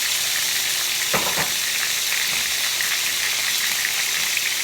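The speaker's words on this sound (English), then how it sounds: "I'm gonna take my steak and I'm gonna throw it down in this pan" A salted, peppered porterhouse steak sears in a pan over high heat, giving a loud, continuous hiss of frying with a couple of brief thumps and crackles near the start.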